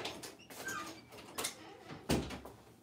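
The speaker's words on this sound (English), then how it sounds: "I'm going to close the door here." A door is pushed shut indoors at a small jazz brunch concert, ending in one solid thump near the end, preceded by fainter handling knocks and shuffling.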